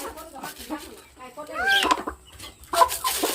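Free-range chickens cluck and squawk close by in a rural yard, several short bursts rising in agitation, while people talk over them.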